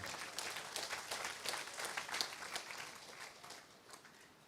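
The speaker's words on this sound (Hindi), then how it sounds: "ताली बजाने से सुस्ती चली जाएगी" Applause from a conference audience at a jurists' panel discussion, a steady patter of many hands clapping at moderate distance that tapers off slightly toward the end, with no voices.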